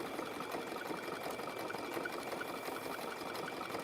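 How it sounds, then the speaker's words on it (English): A sewing machine runs steadily on a wide zigzag stitch, joining coils of rope into a basket. The mechanical whir and rapid needle clatter stay even and close throughout, with no speech. "Every sewing machine's different."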